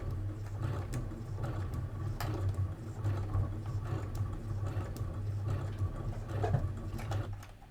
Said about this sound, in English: I'm kind of moving the fabric that way as I go, encouraging it into the machine.